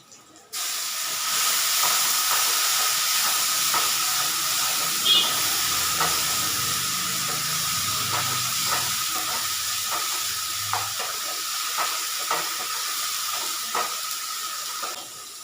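A steady hiss of ginger, cumin, cardamom, cloves, cinnamon and tomato paste frying in hot oil with browned onions, with faint scrapes and taps of a utensil against the pan at irregular intervals.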